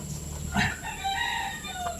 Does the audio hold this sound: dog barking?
no